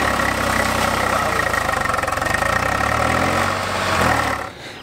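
A tractor engine idles close by in a village paddy-farming setting, a steady loud chugging drone that fades slightly at the end.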